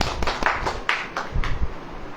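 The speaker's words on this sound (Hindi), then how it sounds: "ताली बजाइए।" Clapping from an audience at a Hindi religious sermon, a short burst of several loud, fairly close hand claps spread over about two seconds with no voices.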